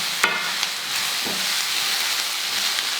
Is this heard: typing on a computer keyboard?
no